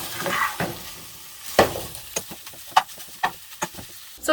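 Sausage fries in a pan for a stir fry, crisp sizzling broken by sharp bursts as pieces are stirred and tossed, close and loud, with no talking.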